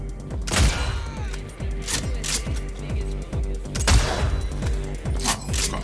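Repeated handgun shots from the video game Cyberpunk 2077 crack out in an irregular string of loud, close bursts with mechanical clatter between them, no talking over them.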